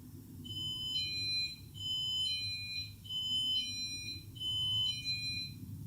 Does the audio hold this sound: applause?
no